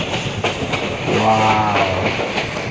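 A long passenger train on the Silchar to Haflong hill line rumbles along the rails, heard from on board as a steady loud roar with rhythmic clatter and a brief tonal whine midway.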